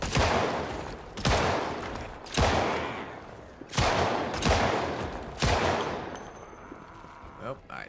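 Repeated bursts of gunfire in Project Zomboid, about six loud sharp volleys spaced roughly a second apart, each decaying before the next, ending with a few faint clicks.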